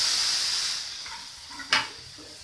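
Tomatoes tipped into spiced masala in hot oil for potato curry, a steady bright hiss of sizzling that fades slightly, then a sudden louder spitting burst as the pieces hit the pan.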